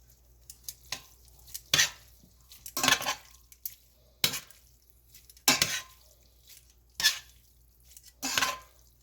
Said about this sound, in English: then just sprinkle it all over the spaghetti and mix it up